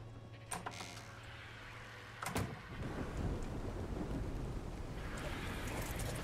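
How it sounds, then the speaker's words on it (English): Steady rain begins falling with a low thunder rumble in the ARK game, a sharp crackle marking the onset before a constant broadband wash of rain continues. "It's raining again."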